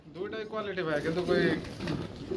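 Pigeons cooing at a Bangladeshi pigeon farm sale, soft repeated throaty coos close by, with someone talking over them.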